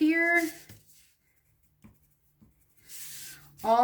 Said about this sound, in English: I'm just going to use this white pencil, and everything I'm chalking out needs to be removed